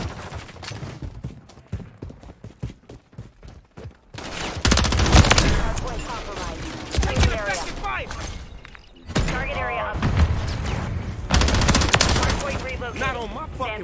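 Rapid submachine gun bursts in a first-person shooter video game, loud repeated volleys in several clusters with sharp impacts, interleaved with a player talking over the action.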